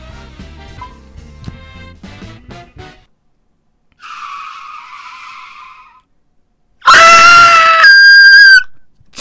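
A human voice imitates a car braking hard, with a loud, shrill screeching squeal that sustains for about two seconds after quieter tonal sounds and a pause.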